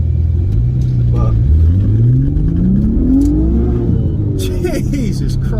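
A B5 Audi RS4 Avant wagon revs at full throttle in traffic, the engine note climbing steadily in pitch as it accelerates hard, loud and close inside the cabin, before a gear change.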